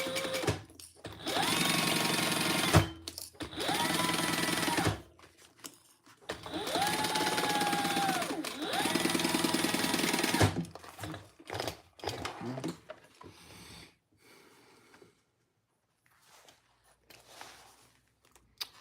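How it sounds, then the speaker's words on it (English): A sewing machine stitches fabric pieces together for a garment's side panel in three loud, steady runs of rapid mechanical whirring, with pauses and light handling clicks between them and quieter fabric movement toward the end. "Okay, let's sew that together."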